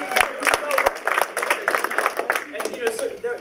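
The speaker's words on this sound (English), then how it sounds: "Give it a round of applause." Indoor audience clapping at a progressive political conversation event, a short burst of applause that is moderately loud and steady, with some cheering mixed into the crowd noise.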